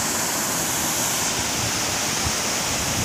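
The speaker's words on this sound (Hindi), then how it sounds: "आ गए हैं हम लोग वाटरफॉल अमृत धारा वाटरफॉल।" The Amritdhara waterfall produces a loud, unbroken roaring rush of falling water, close and steady throughout with no voices.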